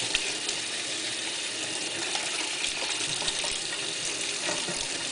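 Warm tap water runs steadily into a home-brewing container, a continuous broad rushing gush with no pauses, close and fairly loud.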